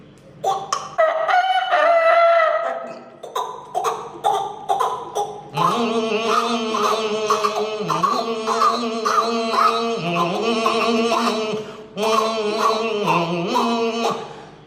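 A human voice imitates a rooster's crowing again and again, loud and close, over a busy melodic backing.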